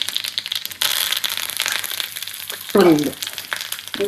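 Mustard seeds, cumin and curry leaves sizzle and crackle in hot oil for a cucumber kosambari tempering, a steady close frying hiss with a louder burst of spitting near the end.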